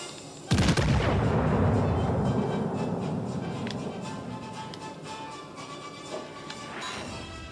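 Warship guns fire in the naval game World of Warships: Legends with a loud, sharp blast, followed by a long rolling rumble that fades over several seconds, plus a few fainter distant reports.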